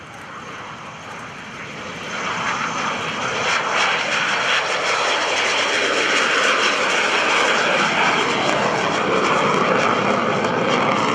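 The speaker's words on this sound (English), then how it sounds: "let's keep our eyes on the Skyhawk as it's on the roll" A McDonnell Douglas A-4 Skyhawk jet engine spools up and roars into a loud, sustained takeoff roll at an airshow, the noise swelling after a quieter start and holding strong.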